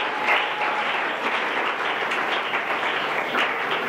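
A church congregation bursting into sustained applause during a sermon, dense and even clapping from many hands filling the room, loud and continuous without speech.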